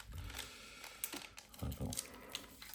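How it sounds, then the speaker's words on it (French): One Piece trading card booster packs being torn open by hand, with short crinkly rips and rustles of foil wrapping, close and fairly faint, mixed with low background noise. "j'arrive pas à ouvrir les paquets correctement"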